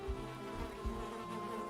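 Bees buzzing around a beehive in the game Valheim, a close, steady insect drone with a few low thumps underneath.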